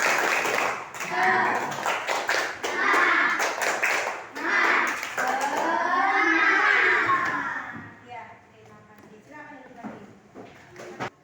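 A primary-school class claps out a counted, rhythmic spirit cheer during a coding and AI lesson, with crisp bursts of claps at the start and the end and a teacher's voice talking through the middle.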